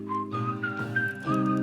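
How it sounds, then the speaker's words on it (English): A whistled melody from a song, a clear pitched whistle gliding between a few sustained notes over a steady musical backing, with no talk. "I love it when a song features a whistle."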